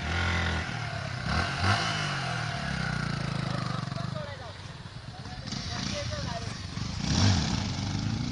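A motorcycle pulls away on a road after the clutch is let out. The engine note rises and falls in a mid-level revving drone, with people talking over it.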